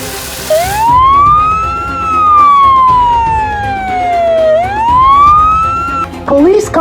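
A police car siren wails in long rising and falling sweeps, loud and close, with a short burst of other siren tones at the end.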